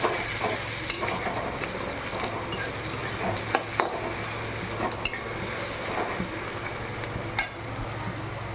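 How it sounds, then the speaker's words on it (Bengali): Green chillies fry in a pan for a chicken masala dish, a steady sizzle under repeated scraping stirs and occasional sharp clinks of the spatula against metal, close and continuous. "এবার আমি কাঁচা লঙ্কাগুলো দিয়ে দেবো, দিয়ে এবার ভেজে নেব।"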